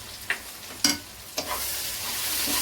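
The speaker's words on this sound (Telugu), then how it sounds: "ఇవన్నీ కొద్దిగా పచ్చివాసన పోయేంత వరకు కూడా ఇలా వేయించుకున్నాం" Chilli, coriander, cumin and garam masala powders frying in a Godavari-style broad bean curry, giving a soft sizzle broken by a few sharp stirring clinks, nearby, with no voices.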